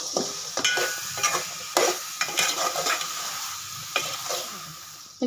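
Soya chunks in salted water are stirred in a pot: a spoon scrapes and knocks in repeated irregular strokes, close and fairly loud, over a continuous bubbling hiss.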